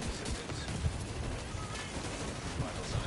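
Rapid turret gunfire in a co-op shooter during a boss fight, a continuous rattling burst with scattered heavier impacts, moderately loud and steady from start to finish.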